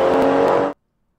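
A car engine, guessed to be a 63-series engine, revs loudly and close up in one short, harsh burst that cuts off abruptly, followed by silence.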